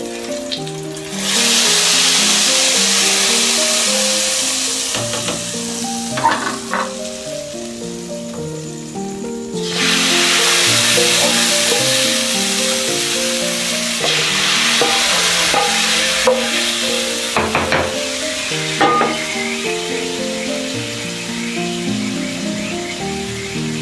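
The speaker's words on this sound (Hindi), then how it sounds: "ये प्याज भी ब्राउन हो चुके हैं। बाकी का मसाला भी अब हम इसको तड़का लगाएंगे।" Browned onions and spices crackle in hot oil as a curry tempering is poured in for kadhi pakora, giving a loud, steady sizzle with bursts of stirring and clatter, with no talking.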